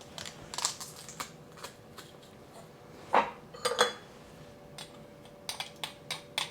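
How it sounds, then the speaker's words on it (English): Clove of garlic squeezed through a metal garlic press in a home kitchen, giving a few sharp clicks and scraping crunches, with two louder squeezing bursts midway and lighter clicks around them; no one talks. "I'm just using my garlic press"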